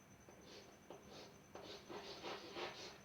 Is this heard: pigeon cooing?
no